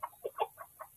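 A Rhode Island Red crossbreed chicken gives five quick, close clucks in about a second, crisp and clear against a quiet background.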